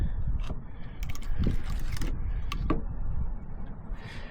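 A V-Pack firewood bundling machine runs at a production site, a continuous mechanical rumble with scattered clanks, creaks and ratcheting knocks from the moving parts.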